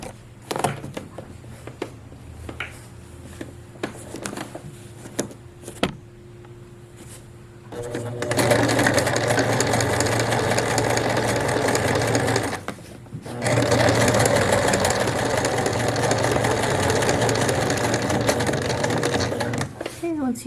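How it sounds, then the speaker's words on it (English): A sewing machine stitches fabric near a grommet rivet on a pants waistband, first a few short taps and stops, then two long continuous runs of steady whirring with a brief pause between. "I'm going gonna sew down into this point, being careful not to hit that grommet rivet thing"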